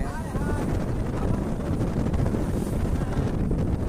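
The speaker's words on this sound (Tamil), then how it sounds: "காத்து நல்லா அடிக்குது" Strong sea wind blasts the microphone aboard a boat off Rameswaram, a loud, steady roar that never lets up for the whole stretch.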